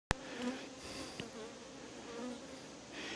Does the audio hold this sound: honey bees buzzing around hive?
yes